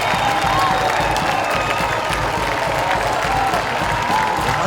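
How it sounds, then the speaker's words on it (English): A college football crowd at RPI against Ithaca College roars and applauds after a touchdown, a dense, continuous wash of clapping and cheering filling the whole stretch. "RPI has a pretty darn good crowd here today."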